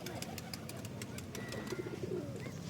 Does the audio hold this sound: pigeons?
yes